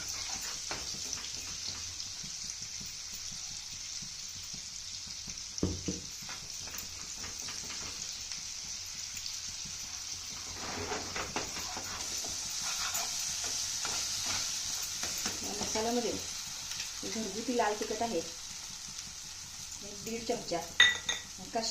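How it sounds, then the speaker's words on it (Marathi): Masala sautéing in oil in a pan for spicy Kolhapuri mutton, a steady close sizzle with intermittent scraping stirs that grow busier toward the end, with no voices. "मसाला तेलामध्ये छान तेल सुटेपर्यंत आपण परतून घ्यायचा"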